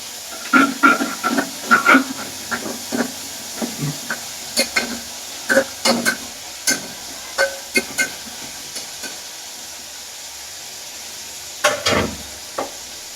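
Food lightly frying in a pan while a utensil stirs it, repeated scraping clicks and knocks over a soft sizzle, close and fairly loud, alone without talk.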